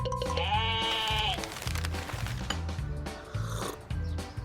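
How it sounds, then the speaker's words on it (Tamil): Sheep on a farm let out a long, wavering bleat near the start, followed by a rhythmic knocking, tapping background with a few fainter bleat-like cries later on. No one speaks. "செம்மறியாடுகள் மிகவும் முக்கியமான பண்ணை விலங்குகள்."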